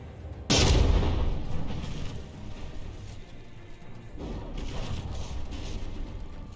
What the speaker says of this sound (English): it's just continuing to rain these mortar shells down